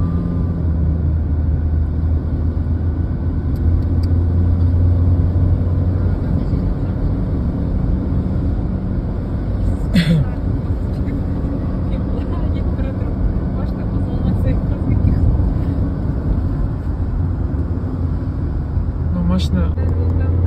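A car drives a mountain road near Almaty, Kazakhstan, giving a steady loud engine drone and road rumble throughout, with a few brief knocks, while people talk over it.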